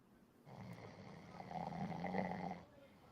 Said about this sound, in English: Yo, wait, somebody snoring?